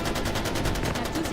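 Rapid automatic gunfire from soldiers in Far Cry 4 rattles continuously, a fairly quiet, dense burst of repeated shots with faint voices mixed underneath.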